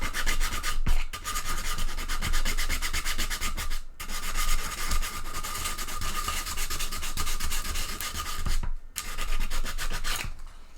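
Sandpaper rubbing steadily across a 3D-printed T-Rex bust to smooth away print lines, a close, continuous rasping scrape broken by a few short pauses between strokes.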